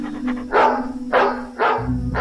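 A dog in a radio drama barks four times in sharp, evenly spaced bursts, each loud and close, over a steady low electrical hum.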